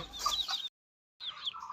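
A chicken tied up with plastic rope clucks in two short, close bursts separated by a brief silence.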